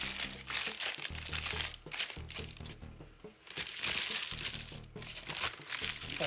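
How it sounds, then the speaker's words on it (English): Baking paper being crumpled by hand before lining a pie pan, a close, loud, continuous crinkling and crunching that rises and falls in bursts over several seconds, with no talking. "So now I'm going to take some baking paper, crumble this."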